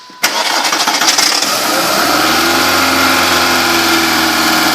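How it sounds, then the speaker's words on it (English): A 1999 Volkswagen Beetle engine cranks with a sharp start, then settles into a loud, close, uneven idle with a slightly rough, wavering drone. "Does run a little rough."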